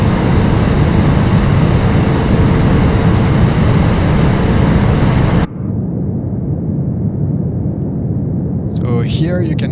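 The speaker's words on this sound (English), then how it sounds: "the engine sound is too loud for the moment" A loud, steady propeller aircraft engine drone in Microsoft Flight Simulator roars continuously, dropping in tone partway through, with a brief burst of voice near the end.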